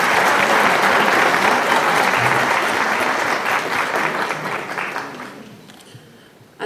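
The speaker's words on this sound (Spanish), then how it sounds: "un aplauso fuerte para ustedes" An audience at the opening session of a criminal law and litigation diploma course claps loudly and steadily, the dense applause gradually thinning and fading out toward the end.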